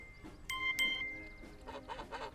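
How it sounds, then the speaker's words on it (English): Chickens clucking faintly in the background, a few soft short clucks amid quiet room sound with a couple of bright chime-like tones early on. "Look at all those chickens."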